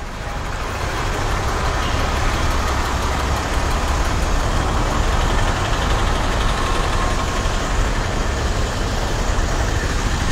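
Traffic on an overbridge at Revendra, a constant low rumble of idling truck, car and bike engines close by, steady and unbroken with no talk.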